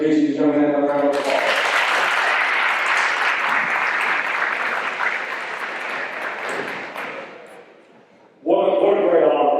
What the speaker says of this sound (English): Let's give each of these young men a round of applause.